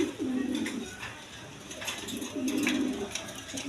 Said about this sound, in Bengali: দেখেন ডাউগা কবুতর